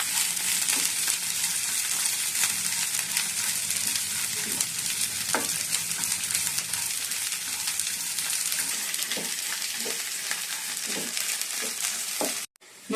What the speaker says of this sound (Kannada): ಇದನ್ನು ಬೆಂಡೆಕಾಯಿ ಥರ ಚೆನ್ನಾಗಿ ಫ್ರೈ ಮಾಡ್ಕೊಳ್ಳೋಣ.